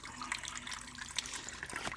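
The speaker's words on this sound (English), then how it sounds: "So the water is getting fed through here, through my adjustable height water spout." Water pours steadily from an adjustable-height spout into an IBC tank aquaponics system, a constant close splashing and trickling with no voices.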